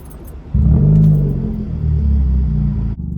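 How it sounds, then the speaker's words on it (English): Close engine start of a car with the muffler and resonator removed, windows down: a sudden loud, deep rumbling catch that settles into a steady, throaty idle for a couple of seconds before cutting back. "And now starting the car with the windows down."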